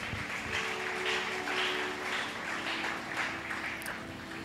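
A church congregation applauds with a sustained, dense wash of clapping that holds steady throughout, moderately distant, with a faint tonal hum underneath.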